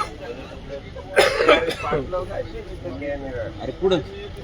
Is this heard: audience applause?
no